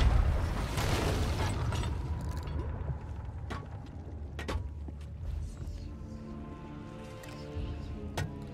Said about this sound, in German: Oh shit, war da die Kanone